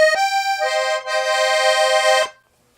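A Hohner student piano accordion on its treble musette register sounds a held note, then swells into a bright, wavering chord with a shimmering vibrato, sustained for over a second before cutting off.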